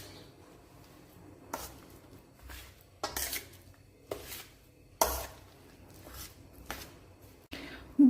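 A utensil stirs and scrapes jaggery into ripe mashed bananas in a vessel, producing irregular knocks and scraping taps against the pot every second or so, close and moderately quiet, with no talking.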